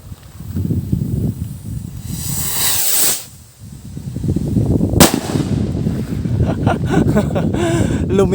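A DIY kwitis ballhead firework rocket with a silver sparkler load launches with a rising whoosh and hiss, followed by a sharp crack, over outdoor wind noise and crackling, with people talking faintly in the background.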